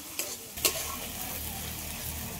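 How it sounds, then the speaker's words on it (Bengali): Spices fry lightly in a pan with a quiet, steady sizzle, broken early by two sharp clinks of a spoon or spatula against the pan. "সব মশলাটা একটু হালকা করে ভেজে নেব"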